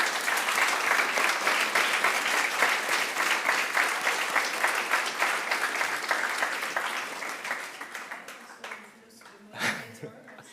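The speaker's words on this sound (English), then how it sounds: "Please join me in giving the panelists a round of applause." An audience applauds panelists at the close of a youth forum session, steady dense clapping that continues for about nine seconds and then thins out and fades, with a brief voice near the end.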